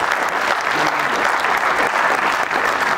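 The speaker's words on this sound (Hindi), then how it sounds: "इनके लिए एक बार जोरदार ताली बजाइए." Loud, dense applause from an audience at a TiE Patna entrepreneurship event, sustained steadily for several seconds as people welcome a guest onto the stage.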